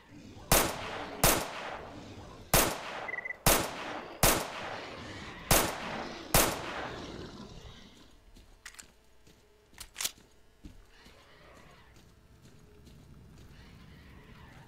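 Gunshots in S.T.A.L.K.E.R. Call of Chernobyl: seven loud, evenly spaced single shots, then a few fainter shots amid quieter ambient game sound.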